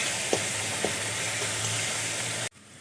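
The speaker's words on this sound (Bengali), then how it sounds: "খুব ভালো করে কষিয়ে নিতে হবে" Masala for egg poach curry sautéing in a pan, a loud continuous sizzle with two faint stirring taps, cutting off abruptly near the end.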